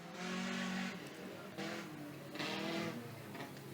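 A Top Star Junior sedan, car number 71, races around a circuit, its engine rising and falling in loud revving bursts as it passes, with quieter gaps between.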